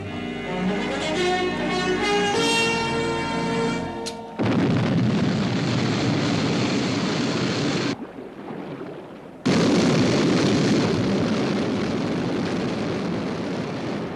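Sky 1 interceptor aircraft lifting off as a television sound effect: swelling musical tones give way to a loud, sustained roaring engine wash, briefly cut off and then resuming at full strength.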